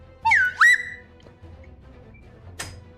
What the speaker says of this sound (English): You get the slide whistle anyways.